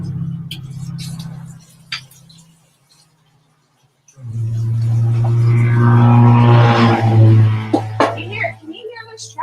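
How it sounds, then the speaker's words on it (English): Road traffic on a state route passing a home, a vehicle approaching loudly and rushing by close in a steady roar after a brief lull, with lighter traffic noise trailing off at the end. "Can you hear this traffic? It's crazy."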